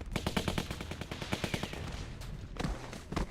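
Rapid automatic AK rifle fire in The Walking Dead video game, a dense rattling burst of shots followed by a few more scattered bangs, loud and continuous.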